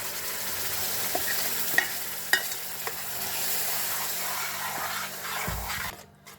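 Tomato puree with garam masala, Kashmiri chilli and coriander powder sizzles steadily in a pan for palak paneer gravy, with a few sharp spoon scrapes and knocks as it is stirred, close and continuous before cutting out at the end.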